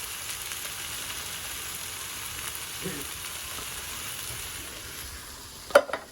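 Homestyle curry with a can of chopped tomatoes simmering in a pan gives a faint, steady bubbling sizzle with a soft clink near the end, no talking.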